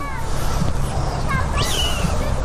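A cat gives a few faint, rising meows over a busy, noisy background, while people talk nearby.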